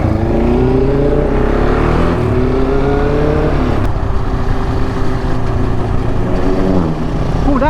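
Yamaha MT-07, KTM 690 Duke R and GSXR 750 motorcycles fitted with Akrapovic exhausts roar loudly and continuously, engines revving and rising in pitch as they ride close by.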